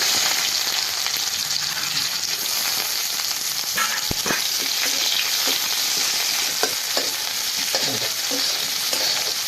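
Chopped onion frying in mustard oil with whole garam masala, cumin seeds and bay leaves, a steady loud sizzle broken by occasional scraping stirs, no voices.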